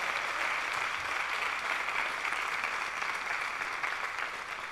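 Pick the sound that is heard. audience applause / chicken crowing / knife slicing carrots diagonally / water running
audience applause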